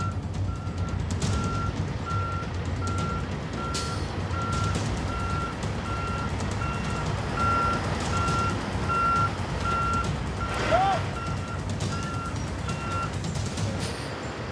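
A heavy truck reverses through a highway intersection, its backup beeper pulsing steadily and evenly for the whole stretch over a constant low engine rumble, with a brief hiss partway through.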